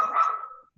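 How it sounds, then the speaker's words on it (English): A single short dog bark, fairly close and loud, trailing off quickly into silence. "the dogs are going to start barking"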